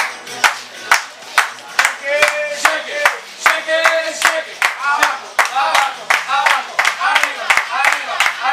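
An audience claps along in a steady rhythmic beat while a man dances at a community event in Puerto Vallarta, sharp regular claps filling the whole stretch with voices and a tune sounding underneath.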